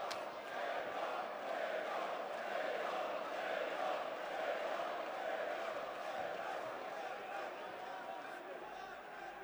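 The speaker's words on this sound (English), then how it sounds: "Crowd here supporting Jakub Nedo." A fight-night crowd in Ljubljana roars continuously for an MMA fighter during an FNC 29 title bout, a broad, steady wall of cheering and shouting that stays loud throughout.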